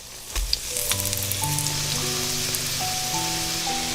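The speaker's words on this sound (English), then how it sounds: "Now you can fry the second sandwich." Breaded sandwich frying in a pan, steady close sizzling and crackling throughout with soft background music and no talk.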